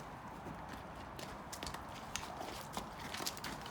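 Hooves of a horse walking in a grassy field clip-clop in a steady, fairly close rhythm over a constant outdoor hiss of wind and ambience.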